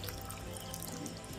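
Water gushes strongly from a leak, going to waste, as a steady, faint rushing and splashing with no pauses.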